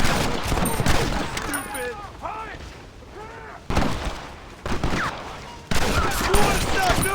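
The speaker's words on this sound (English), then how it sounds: "The Gatling gun, use it!" Gatling gun fire in the video game Red Dead Redemption, loud bursts of rapid shots in several stretches, mixed with chaotic battle noise while characters shout over it.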